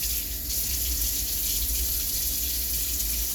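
Tap water runs steadily into a sink for hand washing in a home kitchen, a continuous close gush with no talking.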